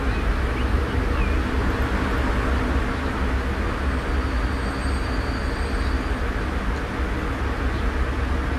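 A 1930s tram in Transport Fever 2 runs along its rails with a continuous low rumbling roll and faint high squeals, steady and moderately loud, with no talk.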